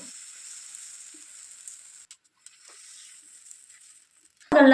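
Thick dosa batter made from ration rice sizzles steadily on a hot pan, a soft close hiss with small crackles throughout, ending with a burst of talking.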